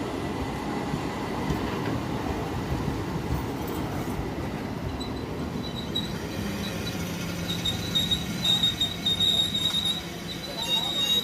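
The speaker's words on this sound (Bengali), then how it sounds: "হুগলিঘাট রেলওয়ে স্টেশনে ঢুকছে" A Bandel–Naihati local train pulls into Hooghly Ghat railway station, a steady mid-level rumble with wheel noise and thin high squeals rising toward the end.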